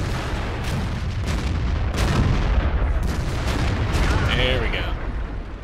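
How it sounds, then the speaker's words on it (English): A tank's HE shell fires in World of Tanks from a T26E4 Super Pershing, a few booming shots over a steady rumbling engine bed, with a voice talking over part of it. "let's see if I can't hit him with a HE shell"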